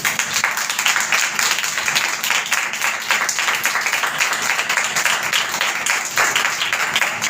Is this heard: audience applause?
yes